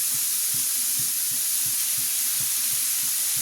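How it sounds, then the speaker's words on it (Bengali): Dal being fried in a pan with ginger-garlic paste for white khichuri, a constant bright sizzle with soft rhythmic stirring knocks underneath. "আমি ডালটাকে একটু ভুনে নিচ্ছি। এর মধ্যে আমি এখন আদা রসুনের পেস্ট দিয়ে দিচ্ছি।"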